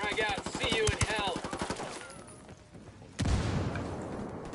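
Video game machine-gun fire, a fast rattling burst over a voice in the first two seconds, then a sharp boom and lingering rumble as the shooting dies down.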